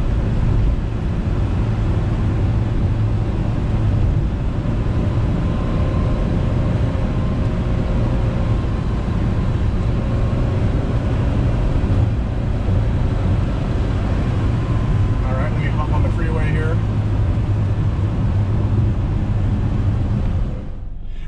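A 1974 BMW 2002 is heard from inside the cabin while driving on the road, a steady loud engine drone with road noise and a faint brief tonal whine midway.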